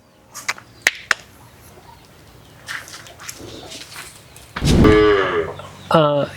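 A Kangayam breed cow with her calf lets out a loud, close, drawn-out moo, then a second shorter low, after a stretch of scattered knocks and faint rustling in a cattle yard.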